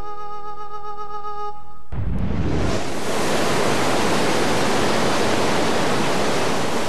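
Whitewater rapids and a crashing waterfall roar in, a loud dense rush of water that bursts in suddenly after a few seconds of quiet music and then holds steady and close, with no talking.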